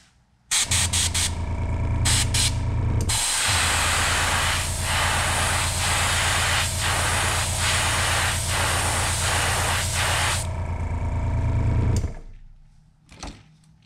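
Airbrush spraying fluorescent paint onto a custom jerk bait fishing lure, a loud steady hiss that runs for about ten seconds, with short bursts at the start and the end and no talking.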